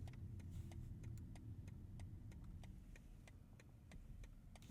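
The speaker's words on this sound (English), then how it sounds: "Turn signal sound." Steady, evenly spaced clicks of a BMW i7 turn signal ticking inside the cabin, a dozen or so crisp ticks over a low hum of the electric car on the move.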